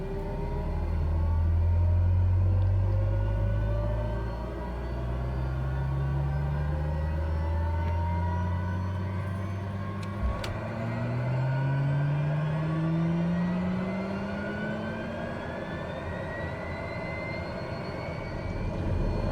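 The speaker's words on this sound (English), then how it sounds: "Let's see if we can get the engine started here." A propeller aircraft engine in a flight simulator game drones steadily, its pitch sweeping upward in repeated rising tones as it starts and spools up, with a brief click partway through.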